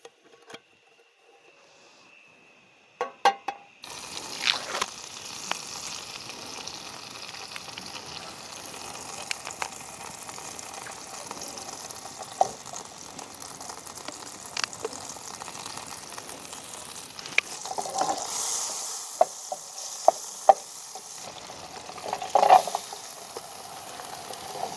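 Egg curry cooks over a campfire at night in the cold Lambasingi hills, with a low steady simmering hiss and scattered faint clinks and stirs after a few sharp knocks near the start.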